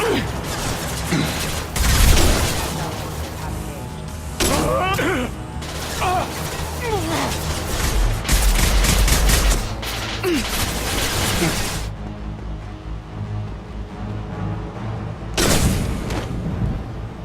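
In a video game battle, heavy shotgun blasts and booming gunfire erupt in bursts against enemies, loud and punchy with mechanical clatter between shots and voices shouting over the fighting.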